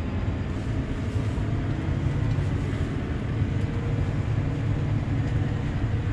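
A Case IH Puma 175 CVX tractor, Austrian built, drives along a road, a steady low engine drone with rumbling road noise, close and continuous, no speech.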